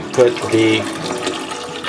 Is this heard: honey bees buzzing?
no